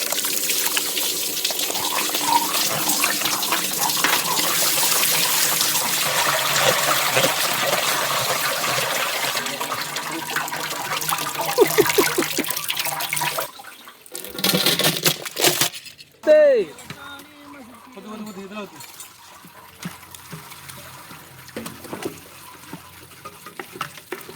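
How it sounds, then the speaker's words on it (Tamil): Water pours and trickles steadily while watermelon juice is made in a village setting, a continuous liquid rush that eases after about thirteen seconds into quieter splashes and drips, with voices talking nearby. "இவ்வளவு தண்ணி வருது."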